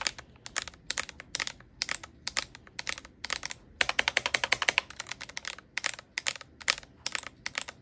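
Rapid clacky typing on a heavy GMMK Pro mechanical keyboard, crisp close keystrokes in irregular bursts with a quick flurry near the middle, no voices over it.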